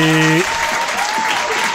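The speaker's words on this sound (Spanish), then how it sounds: "Pastora, buena aplauso." A burst of audience applause on a Spanish comedy show finale follows a brief held vocal tone at the very start, then settles into steady, moderately loud clapping for a short moment.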